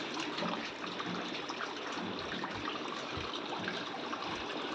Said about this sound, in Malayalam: വെള്ളം എന്തായിട്ട് നിറഞ്ഞ് മറിയുന്നതാണ്